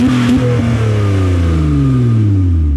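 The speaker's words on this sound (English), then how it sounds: "I'm gonna do some standing revs because it does pop a little bit." An all-wheel-drive car of around 300 horsepower is revved while standing, its engine rising in pitch and then falling away as the exhaust pops a little, loud and close.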